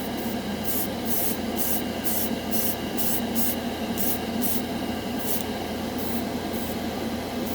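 Mission Model metallic paint on a model is flash dried with repeated short hissing blasts of air in an uneven rhythm over a constant mechanical hum, close and fairly loud, with no voices.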